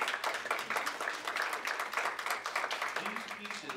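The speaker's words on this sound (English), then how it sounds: "Can we have a round of applause for" An audience at a watercolor painting exhibit in a community center breaks into dense, sustained applause, many hands clapping steadily throughout with a few voices mixed in.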